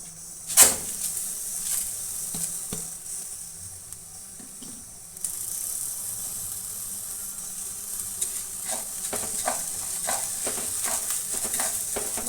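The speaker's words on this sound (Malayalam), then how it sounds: "നമ്മുടെ അരിയൊക്കെ ഏകദേശം വറവാകാനായിട്ടുണ്ട് നല്ല പൊട്ടി പൊരിയുന്നുണ്ട് കേട്ടോ" Rice roasts in a pan for a traditional rice-ball snack, a steady dry hiss and crackle with a sharp knock early on and scattered pops and scrapes of stirring later, close and continuous.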